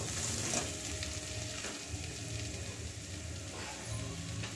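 Kashmiri red chili powder frying in a pan for a duck egg curry with cauliflower and peas, giving a steady close sizzle with soft stirring scrapes throughout.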